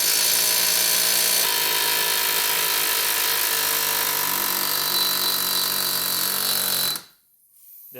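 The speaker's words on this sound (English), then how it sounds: "So let's use this air hammer." A pneumatic air hammer hammers continuously on the axle nut of a Toyota Avalon front drive axle, a loud harsh rapid rattle for about seven seconds before stopping abruptly, followed by near silence and a small noise.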